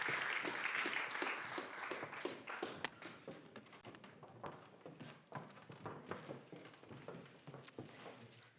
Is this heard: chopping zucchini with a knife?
no